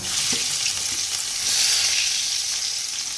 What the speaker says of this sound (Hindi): देखिए पहले डाली मैंने हींग, और हींग के बाद डालेंगे इतना सारा लहसुन, सारा का सारा।